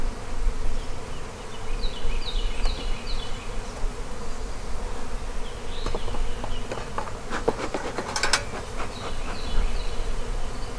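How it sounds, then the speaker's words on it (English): Dense, steady buzzing of a mass of honeybees in an open hive, close and continuous, with a few scraping and clicking handling noises partway through. "These bees are boiling over."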